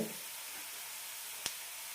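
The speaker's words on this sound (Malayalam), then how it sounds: "കടുക് കറിവേപ്പില ചെറിയുള്ളിട്ടാണ് തളിച്ചിരിക്കുന്നത്" Mustard seeds, curry leaves and shallots tempering in hot oil give a steady, close hiss with a single sharp pop near the end.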